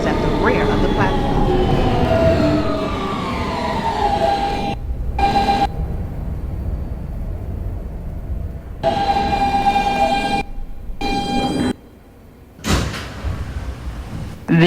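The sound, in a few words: R160B Siemens subway train running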